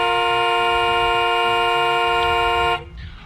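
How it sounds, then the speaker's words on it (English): A protester's car horn blares in one long, steady, loud blast that cuts off abruptly, leaving low background noise. "Why is he honking? Because that's how they protest."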